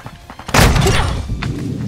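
Gunfire in a first-person shooter video game: a sharp burst of shots hits suddenly after a quiet start, followed by a continuing rumble of loud reports with a second crack near the end.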